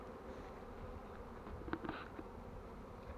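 A colony of honeybees hums at the hive as it is readied to be moved for the honey flow, a dense steady buzz with a few louder bees passing close, no talking.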